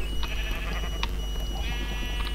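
Blocky Minecraft sheep give a few short, nasal bleats over a steady bed of game sound, with no talking in between.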